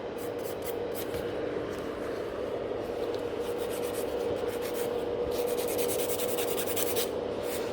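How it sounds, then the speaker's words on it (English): Gel nails being filed with a nail file during a rebalance, producing a steady, continuous close-up rasping and rubbing sound with no pauses throughout. "each time when I'm filing, you can see I'm also kind of filing from underneath"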